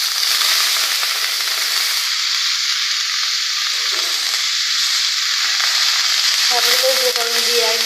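Drumstick flowers fry in hot oil with turmeric, a loud, constant sizzle from close by, broken now and then by the scrape of a spatula stirring the pan.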